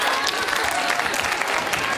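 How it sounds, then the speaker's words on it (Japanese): Big, dense applause from a studio audience at an AKB48 meeting show after a member proposes fancier theater-show bento lunches, continuous loud clapping with crowd murmur mixed in. "すごい大拍手ですよ"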